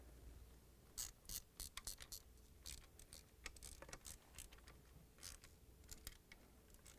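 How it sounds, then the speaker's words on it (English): 5/16 socket wrench tightening the screws on a washer cover seal, a quick ratcheting clicks in short uneven bursts, close and faint, against a low steady background hum. "And now we're going to tighten it with 5/16 socket wrench."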